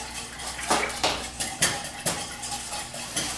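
Olive oil being whisked into Italian salad dressing: a whisk clinks and scrapes against the bowl in a quick, steady rhythm of roughly two strokes per second, close and clear with no talking.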